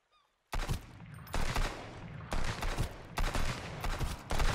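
Pistol fire in the Sunkenland survival video game: a string of sharp, loud shots in irregular bursts, each with a short ringing tail, heard alone with no talking.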